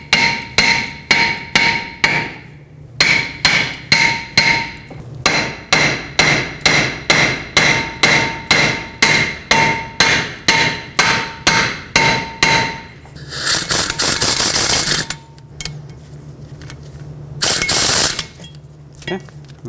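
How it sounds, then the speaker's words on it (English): Hammer striking a stuck brake rotor between the lug studs to free it from a 2012-2017 Toyota Camry front hub, a long run of sharp, evenly spaced metallic blows close up, then a stretch of louder, denser clanking. "you can either use a hammer, tap right between the lug studs"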